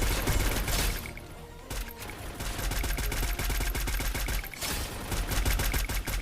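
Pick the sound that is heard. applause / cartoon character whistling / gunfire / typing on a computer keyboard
gunfire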